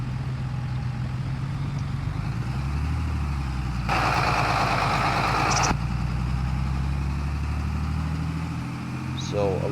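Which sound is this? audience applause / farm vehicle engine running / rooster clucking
farm vehicle engine running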